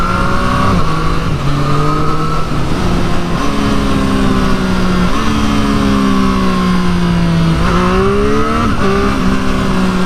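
A 2023 Triumph Street Triple R motorcycle revs hard and shifts up through the gears, its loud, close engine note climbing steadily, then dropping sharply at each gear change and rising again.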